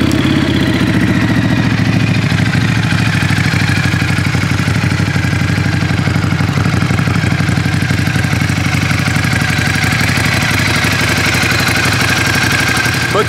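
Ducati Scrambler 1100 twin-cylinder motorcycle with a desmodromic engine from the Monster 1100 Evo, idling loud and close with a steady, lumpy low throb and mechanical clatter throughout, no voices.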